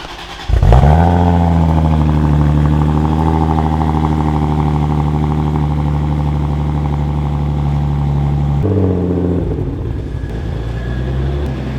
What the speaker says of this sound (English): Okay, you ready for a total cold start? Let's get a cold start.